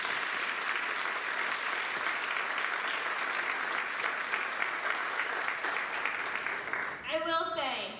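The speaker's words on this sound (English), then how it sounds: "Please join me in giving them another round of applause." Sustained audience applause at a 2021 National Honor Society induction ceremony, steady and full for about seven seconds before tapering off as a voice begins speaking.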